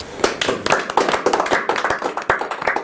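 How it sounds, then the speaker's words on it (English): Small audience clapping after a close-up card magic trick: a brisk patter of individual hand claps from a modest group, fairly near and lively, with no talking. "hopefully it's a huge round of applause"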